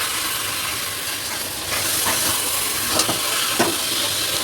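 Raw papaya tipped into a hot pan over a low gas flame gives a loud, steady broadband hiss that swells slightly partway through, with a few faint stirring scrapes.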